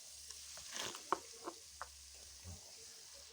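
Chicken pieces and spices sizzling gently in a kadai while being stirred, with a few sharp scraping clacks of the spoon against the pan over a soft, steady frying hiss.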